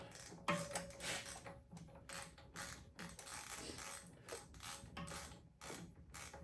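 A socket wrench ratchets a bolt tight in quick, repeated clicking strokes, fairly close and quiet, with short pauses between bursts.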